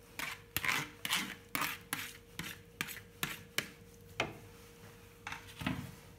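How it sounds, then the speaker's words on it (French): A spoon works through a warm salad of cooked mung beans and beetroot in a bowl, making repeated scraping, rasping strokes in a steady rhythm of about a dozen sweeps, close and fairly quiet, with no talk. "Et on mélange le tout de manière à ce que tout soit bien incorporé"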